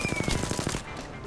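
Rapid burst of automatic gunfire from the video game Apex Legends, loud and close, about ten quick shots in the first 0.8 seconds before fading into game ambience.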